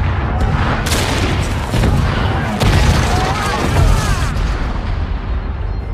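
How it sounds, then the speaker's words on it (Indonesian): Bombs dropped on tanks in the open in an action war film explode in a dense barrage of heavy booms and crackling blasts, loud and continuous throughout. "Bom pun diterjunkan."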